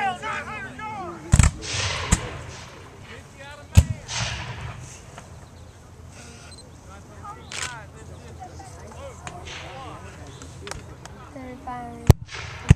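Civil War re-enactment cannon firing, with booming reports about three times spread across the stretch, a loud one near the start and end, amid outdoor chatter and voices of the crew.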